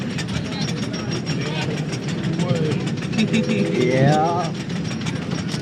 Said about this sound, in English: Riding a roller coaster.